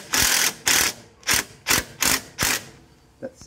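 Bolt being threaded into a powder-coated portal mount, slightly cross-threaded, giving six close, sharp ratcheting clicks in an uneven rhythm followed by a faint tap.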